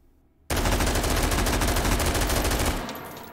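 An AR-18P pistol fired without a stock in the H3VR shooting game lets out a loud, continuous rapid burst of shots close by, lasting a couple of seconds before tailing off, with no talking.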